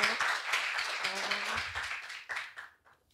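A short burst of clapping from a small group at a formal gathering, fading out after a few seconds, with some murmured voices mixed in.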